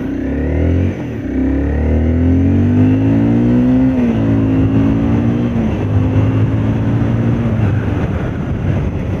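A Honda CBR 250R motorcycle accelerates hard, its engine note climbing steadily in pitch through the gears with a loud, continuous drone and no talking.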